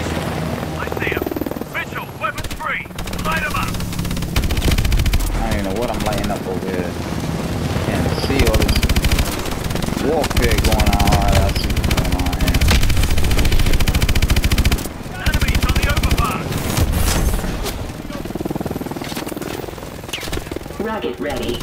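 Rapid automatic gunfire and explosions blast in the video game Call of Duty: Advanced Warfare, loud and sustained over a helicopter drone, while voices shout and talk throughout the combat.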